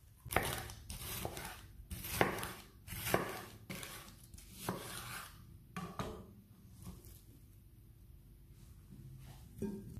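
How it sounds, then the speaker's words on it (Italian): Knife chopping bell peppers on a cutting board, a run of sharp, close cuts and scraping taps in uneven bursts. The chopping thins out toward the end. "taglio e metto i peperoni in ciotola."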